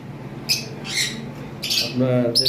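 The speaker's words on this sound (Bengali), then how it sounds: "এখানে একটা পেয়ার লাভবার্ড রয়েছে" Pet lovebirds, including a master pair of red head opaline birds, give several sharp, loud squawks and chirps close by, in short bursts over a low background murmur.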